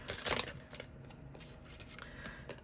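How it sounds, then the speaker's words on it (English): Tarot cards being shuffled by hand, quick soft riffling and flicking at close range, faint and fairly continuous with no talk. "there's not much to shuffle, but let's still shuffle it anyway"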